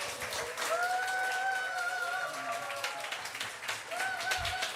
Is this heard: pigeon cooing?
no